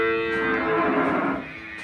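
A bull fattened for beef moos in one long, loud, drawn-out call lasting nearly two seconds, with steady harmonic tone and no talking over it.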